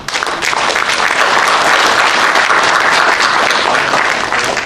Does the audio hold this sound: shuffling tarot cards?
no